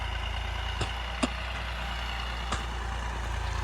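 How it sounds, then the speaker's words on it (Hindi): A Massey Ferguson 9500 tractor pulling a cultivator through a field as it approaches, giving a steady low diesel drone with a few faint knocks and clicks over the engine hum. "बस ट्रैक्टर पास आ रही"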